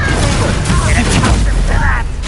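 A Confringo fire blast spell bursts in Hogwarts Legacy amid dense, loud combat noise, a rumbling boom with crackling impacts over about two seconds, with voices shouting beneath it.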